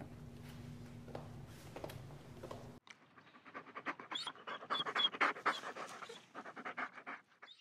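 A dog pants close by: a soft, muffled stretch first, then rapid, loud, rhythmic breaths that grow stronger toward the end.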